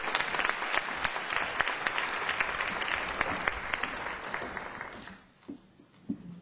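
An audience at a Glendale neighborhood poster contest gathering applauds to welcome a councilwoman to the stage, a full, steady round of many hands that fades out near the end, followed by a few stray claps and thumps.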